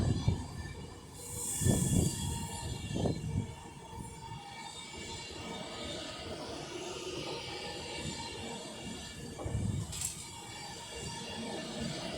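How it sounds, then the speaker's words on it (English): A British Rail Class 390 Alstom Pendolino electric train passes through Rugby station on the West Coast Main Line, a steady rumble of wheels on rails with a few clattering thumps and a brief high squeal, heard at moderate distance. "Alston Pendolino. Working a service to Manchester Piccadilly."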